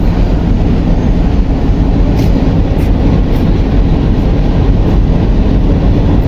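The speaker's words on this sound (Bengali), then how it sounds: "এই মুহূর্তে ঈশ্বরদী স্টেশনে একটি ট্রেন অবস্থান করতেছে" A steady, loud low rumble of a train idling at Ishwardi Junction station, with a constant mechanical drone and no voices.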